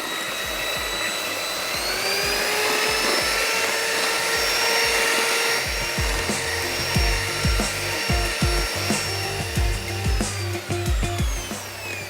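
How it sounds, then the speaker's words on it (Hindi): An electric beater whirs with a steady high whine while mixing batter, then knocks and rattles irregularly against the bowl as the mixing goes on. No voices are heard. "और फिर बीटर हमने बहुत ज़्यादा नहीं चलाना, सिर्फ मिक्सिंग के लिए"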